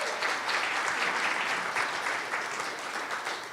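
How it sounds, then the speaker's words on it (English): A crowd claps in a round of applause at a Christmas gathering, dense and continuous hand-clapping that holds steady at a moderate level from start to finish. "Let's give her a round of applause."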